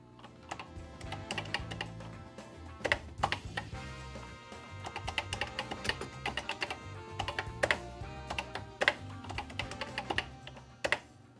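Keys clatter on a Commodore SuperPET computer keyboard in irregular bursts of crisp, close clicks and taps, with some louder keystrokes standing out. No one talks.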